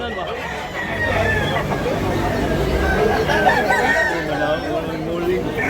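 Fighting cocks crow at a cockpit in Tabunok, Cebu City, with several drawn-out crows rising over a steady crowd murmur and people chattering nearby.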